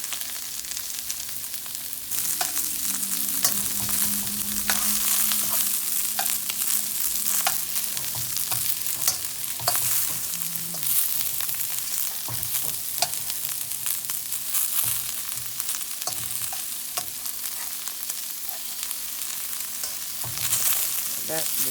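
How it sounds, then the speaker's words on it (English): Celery frying in a pan for shrimp fried rice, a loud continuous sizzle with frequent scraping strokes of a utensil stirring throughout, no talk. "And then we're going to put the celery in there. Get that cooking real good."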